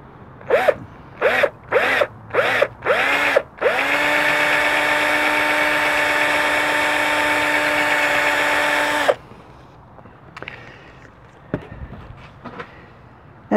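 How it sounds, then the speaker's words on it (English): A power drill fitted with a bigger bit bores into an elm branch: several quick close bursts, then one sustained whining run of about five seconds, followed by quiet handling clicks and knocks. "Now a bigger drill bit, like so."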